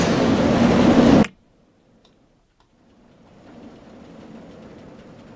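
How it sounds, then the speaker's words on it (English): A roller coaster train in RollerCoaster Tycoon 3 rattles loudly for about a second, cuts off abruptly into near silence, then a faint rolling rumble slowly returns. "the train is sent around with nobody aboard into the loading"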